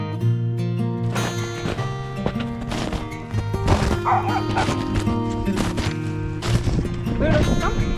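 Puppies bark and yip outdoors during an ice storm while camping, sharp repeated barks rising over a steady tonal background with scattered clip-clop-like knocks; a voice speaks briefly.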